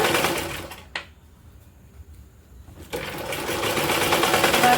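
Sewing machine stitching old cloth into a jute bag, a fast steady whir that stops for about two seconds and then resumes, close and moderately loud.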